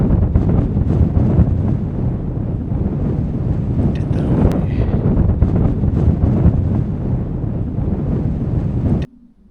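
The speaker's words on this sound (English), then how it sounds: "the wind's kind of freshened a wee bit" Strong wind on the Grey Corries mountain ridge buffeting the microphone, a loud, roaring rumble that surges and eases for several seconds before cutting off abruptly near the end.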